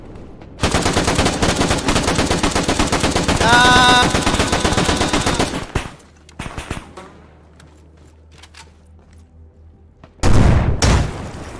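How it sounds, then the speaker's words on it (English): Video game combat with a long burst of rapid automatic gunfire, a scattered lull of single shots and crackle, then a loud close explosion from a rifle grenade near the end. "Oh, that was probably a rifle grenade."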